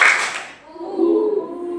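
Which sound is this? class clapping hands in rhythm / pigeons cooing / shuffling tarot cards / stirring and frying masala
class clapping hands in rhythm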